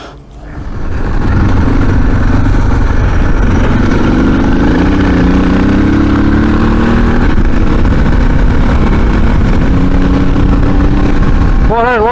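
A motorcycle engine starts and runs at a loud, steady rumble close by, with small pitch shifts as it idles, and a voice talks briefly over it.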